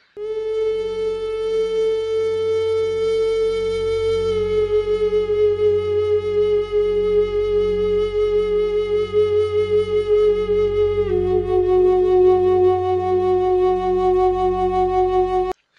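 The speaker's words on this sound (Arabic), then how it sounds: "وهو ده الفلوت زي ما احنا شايفين قدامنا، وده صوت الفلوت." Flute playing in a kindergarten English lesson demo, a steady sustained tone holding a few long notes with slight pitch steps, alone and without talk.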